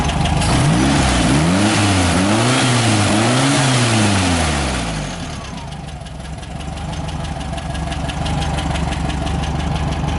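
Engine of a Tonella car revved with no load, rising and falling through several quick throttle blips, then settling into a rough, steady idle; loud and close, with no talking.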